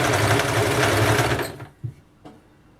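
A blouse is stitched at a marked dot on a sewing machine that runs loud and close for about a second and a half, then stops, followed by a couple of soft knocks.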